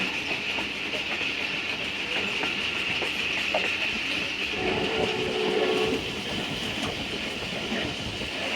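A train rolls past close by near the Lahore railway line in Mughalpura, a steady loud rumble of wheels and carriages filling the whole stretch with a brief tonal whine partway through.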